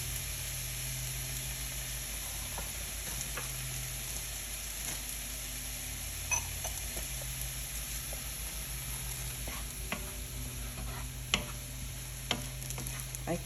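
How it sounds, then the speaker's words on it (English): Vegetables softening as they sauté in a pan, a low, even sizzle that runs steadily throughout with a few faint clicks of a utensil, close by and without speech. "we're going to let that saute until it's soft for a few minutes"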